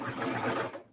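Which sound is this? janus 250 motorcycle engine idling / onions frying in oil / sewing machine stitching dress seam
sewing machine stitching dress seam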